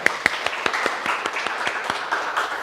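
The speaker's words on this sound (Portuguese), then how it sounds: "Uma salva de palmas para as 2, por favor." Close, crisp applause from an audience at a talk about laughter and fighting cancer, sharp individual claps standing out in a roughly regular beat over a busy crowd clatter.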